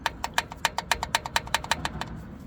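A half-dismantled 2016 Hyundai Elantra GT 2.0 engine with oil-starvation damage makes a sharp, regular metallic knocking at journal number 1, about a dozen taps over a low mechanical rumble.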